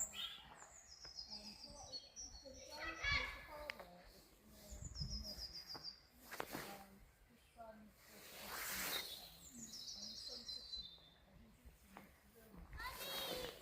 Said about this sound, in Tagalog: Maririnig, may malilit na humuhuning ibon eh, no?